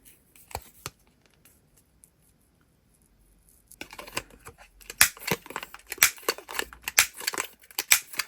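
An awl punches holes through packaging for stud earrings, a string of sharp crisp pokes and crackles that starts after a quiet opening and grows denser and louder near the end.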